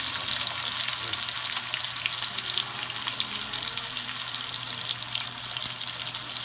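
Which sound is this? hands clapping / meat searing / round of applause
meat searing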